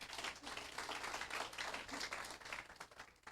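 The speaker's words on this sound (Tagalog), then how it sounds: "So, palakpak muna, palakpak." Audience applause during a leadership talk; continuous clapping from a group, faint and somewhat distant, steady throughout.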